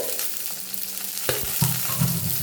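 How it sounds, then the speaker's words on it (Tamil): Cumin, green chillies, shallots and garlic sautéing in hot oil for a peanut chutney, a steady close sizzle with a few sharp scrapes and stirring clatters partway through, no voices. "இதெல்லாம் சேர்த்து நல்லா வதக்கிக்கலாம்"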